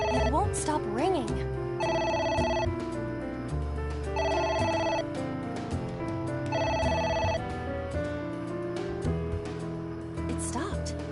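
A telephone rings in the video game Ai: The Somnium Files, repeating in three evenly spaced bursts of bright electronic trill over game music and other sounds.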